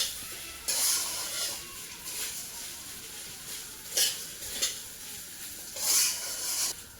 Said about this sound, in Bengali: এখন কিন্তু আমি মুড়িটা কিন্তু দিয়ে দেবো ওটার মধ্যে। তো কিছুক্ষণ নাড়াচাড়া করবো